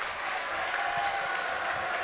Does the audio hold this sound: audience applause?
yes